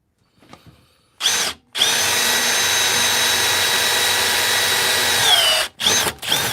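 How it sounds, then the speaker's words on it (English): A power drill whirs loudly and steadily through wood in a long continuous burst, preceded by a brief start and followed by a couple of short final bursts. "should be able to drill this hole."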